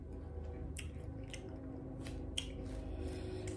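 Close, wet chewing of buffalo boneless wings, soft squishy mouth sounds and bites over a steady low background hum.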